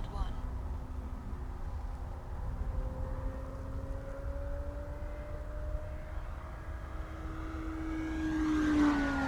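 A Hangar 9 P-47D Thunderbolt 20cc RC model plane flies with its gas engine droning steadily, the pitch slowly shifting and the engine swelling louder near the end as it opens up, while someone talks over it.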